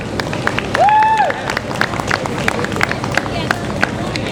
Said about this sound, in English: Let's have a big round of applause for Annabel Lee, everybody